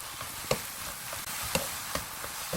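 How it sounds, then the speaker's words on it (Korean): Korean fish cakes stir-fried in a pan with corn syrup, a steady close sizzle broken by several sharp scrapes and knocks of a utensil tossing the pieces, with no talk. "이렇게 뒤적뒤적 해가면서 3분만 볶아주세요."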